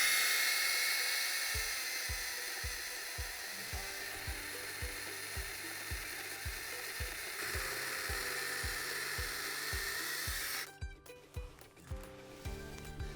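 A hand saw cuts through a thick tree branch during pruning, with a steady run of rhythmic strokes close by. It ends in a few scattered knocks.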